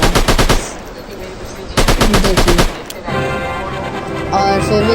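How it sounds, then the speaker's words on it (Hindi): Rapid automatic gunfire from the FPS mobile game Online Strike Op, loud close bursts of machine-gun shots fired upward, stopping and restarting, then giving way to a steady game background tone. "मैं ऊपर फायर करने लगा"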